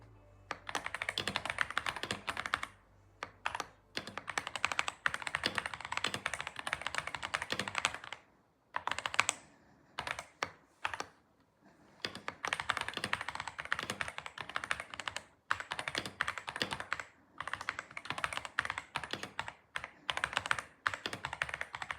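Someone types steadily on a computer keyboard in a home studio, a close, dense clatter of key presses with a few short pauses between bursts.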